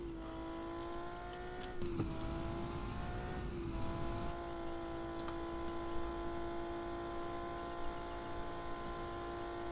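A four-speed car accelerating hard during a speed test in Car For Sale Simulator 2023, its steady engine drone climbing in pitch with a brief harsh burst of revving, with no talking.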